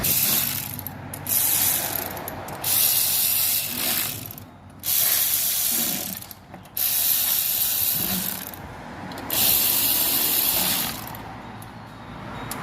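A ratchet wrench tightening nuts on a Toyota Vigo engine during an oil-leak repair, heard as bursts of rapid clicking and whirring broken by short pauses, fairly close and loud, with no talking.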